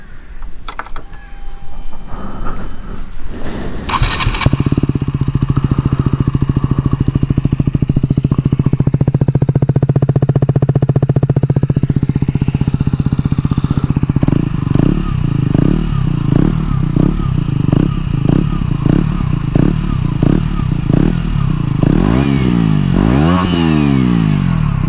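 A 2018 KTM Duke 125 with an Arrow exhaust and the baffle removed cranks and fires up, settles into a loud, steady idle, then gives a run of sharp, rapid throttle blips near the end.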